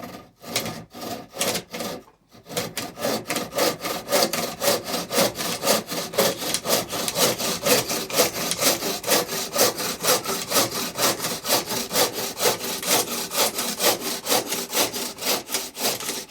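A traditional bow saw cuts firewood outdoors, starting with a few hesitant strokes and a short pause, then settling into a steady, fast rhythmic rasp of back-and-forth strokes, close and sustained.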